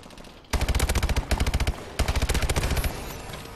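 SMG gunfire in the first-person shooter Call of Duty: Advanced Warfare, loud rapid automatic bursts of around twenty shots each, separated by a short pause, over faint game background.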